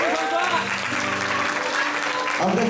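Audience applause for the drummer at a student club's end-of-term concert, a dense steady patter of clapping lasting the whole moment, fairly loud and close, with some voices mixed in.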